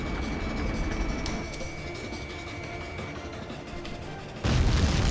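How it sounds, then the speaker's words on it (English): Missile launch and explosion in the Ace Combat 7: Skies Unknown flight combat game. A steady engine roar runs for several seconds, then a sudden loud, full-bodied blast hits near the end. "Missile away."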